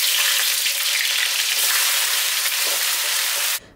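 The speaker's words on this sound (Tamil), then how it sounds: "நெய்யும் நல்லா சூடானதுக்கப்புறமா இப்போ நம்ம எடுத்து வச்சுருக்க பட்டை, கிராம்பு, ஏலக்காய் சேர்த்துக்கலாம்" Cinnamon, cloves and cardamom sizzle in hot ghee with a loud, steady, hissing fry that runs unbroken, then cuts off abruptly at the end.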